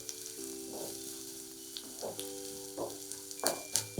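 Mixed vegetables with capsicum sautéing in a pan for chapati noodles, a soft, quiet sizzle under a low hum, with a few short stirring scrapes toward the end and no speech.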